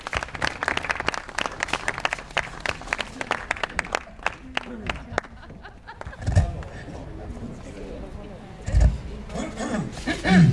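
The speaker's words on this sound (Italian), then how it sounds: "un applauso ai zambognari" Scattered audience applause for bagpipe players at a Christmas show in Sala Consilina, sharp individual claps in the first half that thin out, followed by voices and stage handling noises.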